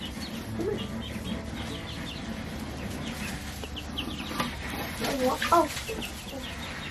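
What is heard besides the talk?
chickens clucking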